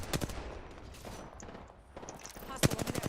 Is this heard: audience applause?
no